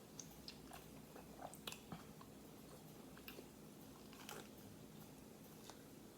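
Quiet, close crunching bites and chewing on a crispy fried chicken sandwich, with irregular crisp crackles spread steadily through the moment.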